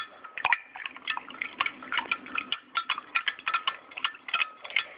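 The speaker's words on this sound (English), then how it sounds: "Try to stir it until you see that everything is combined together." A liquid mixture for homemade beach-wave hair spray is stirred in a container, making a steady run of light, quick clinks and ticks that sound like a utensil tapping glass, close and fairly clear.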